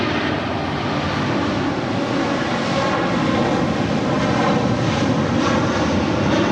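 An airliner comes in to land on runway 25 left at LAX. Its engines make a loud, steady, broadband roar that fills the whole span, with no voices.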